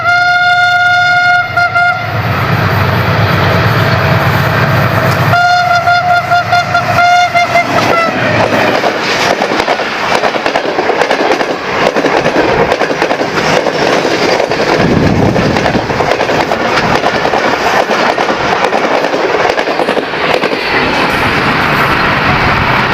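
The Sir Syed Express, a Pakistani passenger train, sounds a loud two-tone horn in long blasts, then rumbles past close by with rhythmic clattering of wheels on rail joints.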